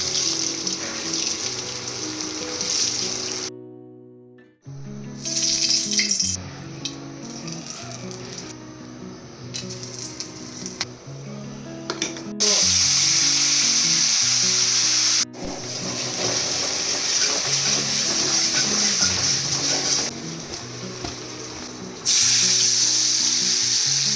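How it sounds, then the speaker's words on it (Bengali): Potatoes fry in mustard oil with a steady, fairly loud sizzle that cuts out briefly and returns, under tonal background music. "প্রথমেই সর্ষের তেলে আলুগুলো ভেজে নেব।"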